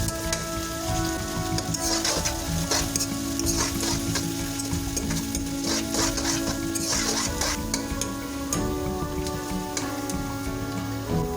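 Chopped onions fry in a hot kadai for a chichinga and prawn curry, making a dense, loud, continuous sizzle with frequent crackles and stirring scrapes close by.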